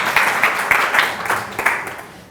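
Audience applause at a real estate company's Ignite 3.0 presentation in Madeira: a short burst of clapping from a crowd, steady and fairly close, with no talking over it.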